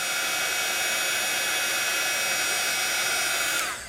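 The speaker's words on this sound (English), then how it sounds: "turn on my heat tool. And when you're heating glittered embossing powder" A heat tool blows steadily while melting glittered embossing powder, a loud constant whooshing roar of hot air that cuts off near the end.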